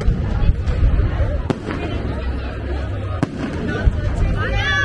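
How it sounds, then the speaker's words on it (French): Fireworks popping at the opening of the Granada feria in Spain, sharp bangs at intervals over a dense crowd murmur and street noise, with voices nearby. "il y a des feux d'artifice, je sais pas où"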